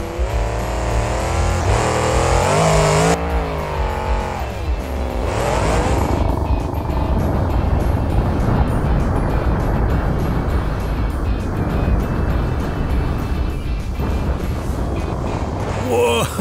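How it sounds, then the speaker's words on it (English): A monster truck's engine roars and revs loudly throughout, with bursts of acceleration and crunching impacts as it jumps and lands on already-wrecked cars, under voices talking. "Let's see how flat we can get these cars if we land the truck on them after a jump."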